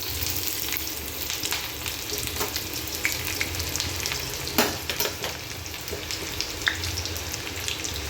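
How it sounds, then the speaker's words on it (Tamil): Chopped onions hit hot oil in a pan and sizzle loudly and steadily, a dense continuous hiss broken by occasional crackles and pops. "எண்ணெய் சூடாயிடுச்சு. இப்போ வெட்டி வச்சுட்டு வெங்காயத்தை சேர்த்துக்கலாம்."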